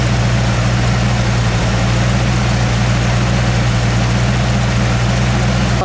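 A 1968 Ford Mustang's factory 428 Cobra Jet V8 idles loud and close, a deep, even rumble with a steady low throb that holds without change.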